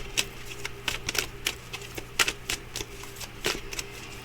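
Oracle and tarot cards are drawn and handled, giving a string of crisp, irregular paper taps, flicks and slides, close by and fairly quiet, with no talking.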